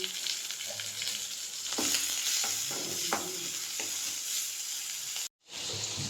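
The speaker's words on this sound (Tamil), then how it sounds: "இப்போ வெங்காயம், பச்சை மிளகா, கருவேப்பிலை எல்லாத்தையும் போட்டுக்கலாம். தக்காளி போட்டு வதக்கிக்கலாம்." Onions, green chillies, curry leaves and tomato sauté in a pan for egg curry, giving a steady close sizzle with scattered stirring scrapes, no voices, and a brief cut to silence near the end.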